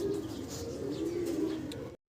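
Fancy pigeons coo steadily in low, throaty murmurs, a pair and more overlapping close by inside a large cage, with a faint chirp or two above, ending abruptly.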